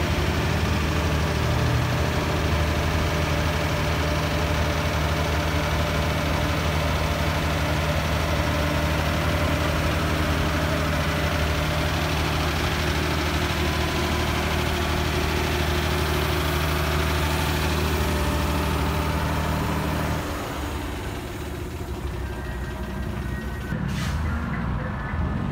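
A DINA Catosa bus engine idles steadily, a loud, even low rumble with constant vibration that runs unchanged for about twenty seconds before dropping off, leaving quieter mechanical sounds and faint clicks.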